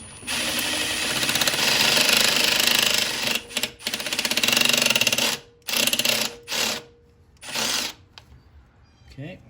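A power drill drives self-tapping screws into a bracket while installing an oil catch can, its loud whirring bursts starting and stopping in several short runs close up.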